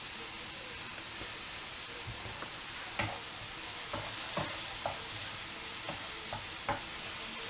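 Smoked bacon fries in oil for pasta carbonara, a soft, continuous sizzle with scattered faint taps and clinks from stirring.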